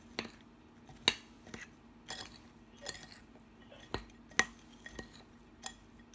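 A spoon clinks and scrapes against a bowl while sugar, walnuts, cardamom and cinnamon are mixed, giving sharp, quiet taps spaced about every half second to second, close and with no talking.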